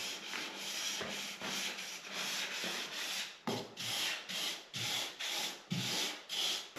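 Hand sanding of a weathered wooden garden planter, a steady rasping rub in repeated strokes that turn into short, distinct back-and-forth swipes toward the end, close up with no voices.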